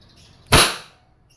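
A Wingun 708 CO2 airsoft revolver fires one double-action shot, a sharp, close, loud crack with a short hiss of gas that fades quickly, then quiet.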